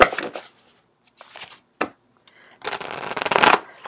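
Tarot angel cards are shuffled close up in short riffling bursts separated by pauses, ending in a longer, louder flurry of shuffling.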